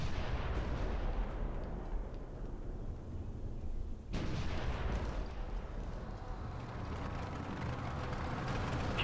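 Artillery fire in the video game Future Soldier, a dense continuous rumble of heavy booming with a sharp renewed blast midway, loud and sustained throughout.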